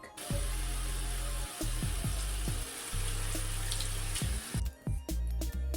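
Loud, steady water running while hair is rinsed out, continuous broadband rush with a few brief interruptions and splashes across the whole stretch, no talking.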